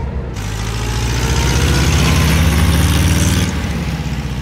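A 1943 Volkswagen Typ 87 four-wheel-drive Beetle pulls away, its air-cooled engine droning loud and close with a steady throb that rises as it accelerates, then drops off sharply near the end.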